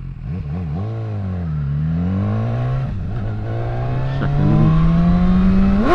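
A BMW S1000R motorcycle revving and accelerating hard as its front wheel lifts, the engine note climbing through gears with a brief dip mid-run, loud and close with wind rush, no voices.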